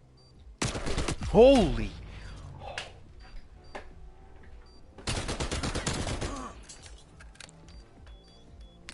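Sharp bursts of gunfire in a Call of Duty Cold War match ring out in two loud volleys a few seconds apart, with a startled exclamation and game sound effects between them.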